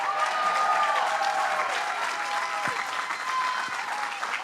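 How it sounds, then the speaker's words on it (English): A crowd claps for a labor leader at a political rally stop in Albany, sustained dense applause at a fairly loud level throughout, with a few whoops and calls mixed in over the clapping. "Let's give him a big round of applause."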